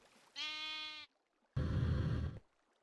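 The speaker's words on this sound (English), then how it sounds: "Got an energetic sheep up here." Sheep in the Minecraft modpack Stoneblock giving two distinct bleats, the first thin and tonal, the second louder and rougher, close by with a short pause between them.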